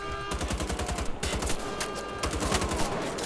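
Rapid automatic gunfire in Wolfenstein: The Old Blood rattles in dense, close bursts with a brief pause near the second mark, loud and without speech.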